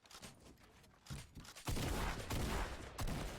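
Pump shotgun blasts in a Fortnite-style video game, a dense run of loud booming shots and gunfire crackle, heaviest in the second half, with faint voices and game noise underneath.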